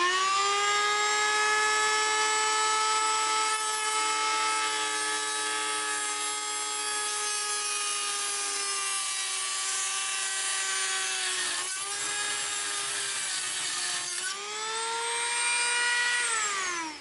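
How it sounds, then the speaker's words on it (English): A Dremel rotary tool cuts a metal pin held in a vise while working on a Redcat Gen8 Scout II RC truck transmission. It makes a loud, continuous high-pitched whine that dips briefly in pitch under load near the end. "I got my Dremel tool."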